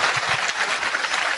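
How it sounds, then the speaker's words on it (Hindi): Seminar audience applauding, a dense, steady patter of many hands clapping together, loud and close for a brief stretch with no talking. "इनके लिए जोरदार तालियां होना बहुत जरूरी है"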